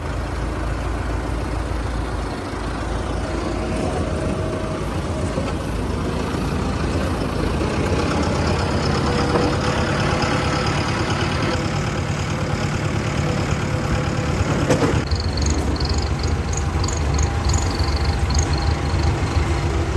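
A heavy engine chugs and rumbles steadily at close range, like a tractor running, holding a constant drone the whole time.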